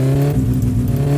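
Car engine in the video game My Summer Car, just started and running rough, a steady loud low idle hum with strong droning harmonics and a slight uneven wobble.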